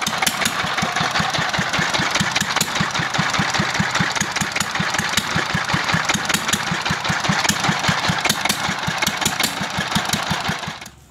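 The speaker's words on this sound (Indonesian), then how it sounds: "sekarang mesin dieselnya sudah mulai enak hidupnya ini ya" Old diesel engine running after servicing: a loud, close, rhythmic knocking chug at a steady idle that continues throughout and cuts off at the very end, with no voices.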